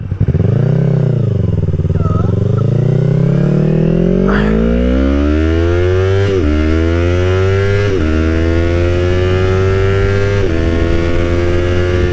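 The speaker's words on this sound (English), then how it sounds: "that slipper clutch feels really good. Like, downshifts are so smooth." Yamaha R3 streetfighter motorcycle with a slipper clutch, riding: a loud, close engine dropping in pitch, then climbing steadily through the gears, with pitch steps at each shift and a whining buzz throughout.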